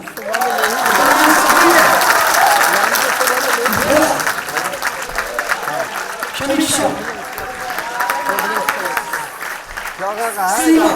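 A stage drama audience applauds the cast with sustained, fairly loud clapping from a crowd, while an announcer keeps talking over it and names a performer.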